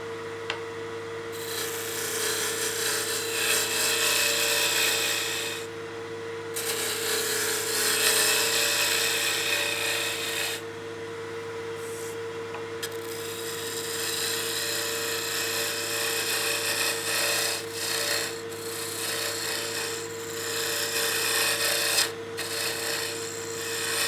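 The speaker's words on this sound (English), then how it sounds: "Just using the spindle roughing gouge to get the majority of that bulk" Spindle roughing gouge removing bulk from a wooden pepper mill blank spinning on a lathe, a steady close rasping hiss with a constant motor hum, interrupted by a few brief pauses as the tool lifts off.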